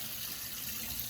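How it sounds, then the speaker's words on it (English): Water streaming and dripping out of a hand-washed cashmere sweater as it is squeezed over a sink, a brief close, steady trickling splash with no talk. "you can see lots of water coming out of there"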